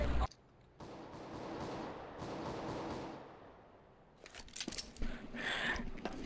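Gunfire in the video game CS:GO: a sharp shot at the very start, then a quieter stretch before a cluster of crisp, close shots and clattering bursts near the end.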